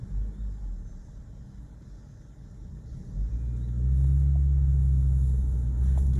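Road traffic heading into Colchester on a hot June day: a steady low rumble of passing cars that swells and deepens toward the end as a heavier vehicle moves close by.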